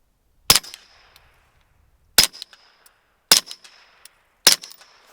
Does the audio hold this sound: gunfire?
yes